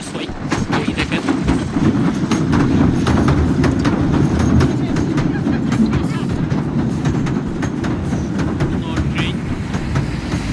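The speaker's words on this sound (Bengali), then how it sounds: "ওই যে দেখতে পাচ্ছেন আপনারা ট্রেন আসতেছে" A train rumbles steadily past at Southend-on-Sea, a dense continuous roar with faint rhythmic clatter of wheels and wind noise throughout, close and loud for the full length.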